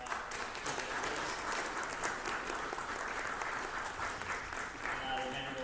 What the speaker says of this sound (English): please give a round of applause to our presenters.